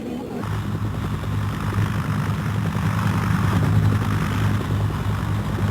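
Naval helicopters from the American 7th Fleet shuttle people out of the US embassy in Saigon in 1975, their rotors and engines making a loud, continuous low throbbing drone that holds steady throughout.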